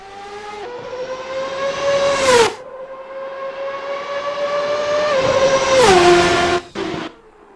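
A 1999 race car mod in Assetto Corsa screams at high revs with a strong harmonic engine whine, rising through two gear runs, each ending in a sharp shift or lift-off before the note drops and climbs again, loud and close.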